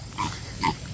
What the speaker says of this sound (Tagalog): Hi, Piggy Baboy!